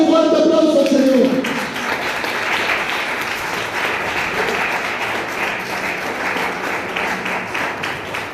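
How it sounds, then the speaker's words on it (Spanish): A church congregation breaks into sustained, steady applause right after a preacher's brief spoken line, the dense clapping staying loud and even to the end. "Dale un fuerte aplauso al Señor."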